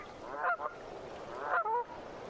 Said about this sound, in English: Canada geese rest here.